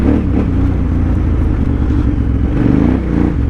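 A KTM 990 adventure motorcycle revs hard with its rear tire spinning, giving a loud, continuous, rumbling engine roar up close with a clattering texture and no pauses.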